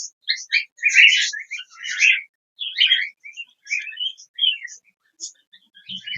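Cockatiel chicks give bursts of high, thin chirps and squeaky calls in quick irregular clusters with short silent gaps, close and fairly loud, and no voices.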